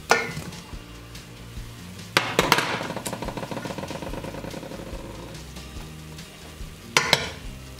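Broccoli stirred into a hot pan of beef stir fry, with steady sizzling and frying under repeated scraping clanks of a utensil against the pan, close and fairly loud, with sharper knocks near the start and end.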